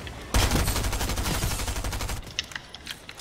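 Rapid automatic gunfire from a weapon in Fortnite rattles in a loud sustained burst for about two seconds, followed by several fainter separate shots.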